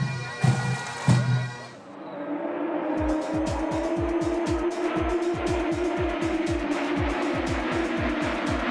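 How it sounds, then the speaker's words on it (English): IndyCar race cars at Auto Club Speedway in Fontana roar past in rapid succession, a dense stream of loud high-pitched engine whines sweeping by one after another. "catch the sights and sounds of IndyCars at the Auto Club Speedway in Fontana"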